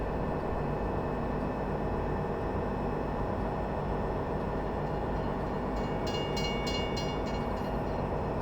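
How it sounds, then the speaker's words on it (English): A train rolls through the Saxony farmland map in Farming Simulator 17, a steady low rumble of wheels and carriages that holds throughout, with faint higher squeals or clanks near the end. "so the train passes this area and then makes the circle on the north side of the railway"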